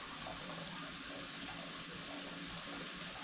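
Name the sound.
warm water poured into buckets for a cowhide tanning solution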